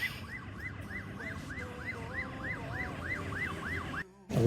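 A fire truck siren wails in a steady, repeating rise-and-fall cycle, loud and close over street noise, with a short dropout near the end.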